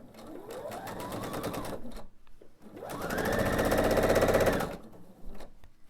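A sewing machine stitches a quilt seam in two bursts, the second run longer and faster, with a short pause between; steady motor whir and rapid needle clatter, close and alone.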